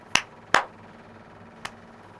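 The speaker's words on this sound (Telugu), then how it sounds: "అలా పెట్టేసి క్లాప్ చేసినాక" Hands clap to set off a sound alert app: three sharp, close claps, two in quick succession and a softer third after a pause, over a quiet room.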